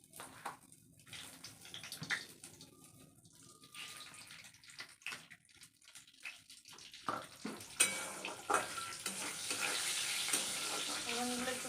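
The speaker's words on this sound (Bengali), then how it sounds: "আর দিলাম একটু পাঁচ ফোড়ন" Panch phoron spices fry in hot oil with a steady sizzle that builds louder and denser toward the end, scattered with clinks and scraping stirs, no voices.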